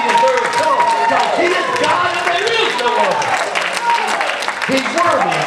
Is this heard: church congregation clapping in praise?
yes